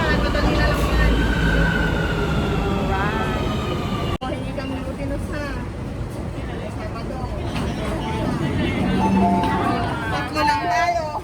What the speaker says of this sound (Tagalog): Andito na yung MTR uh, train.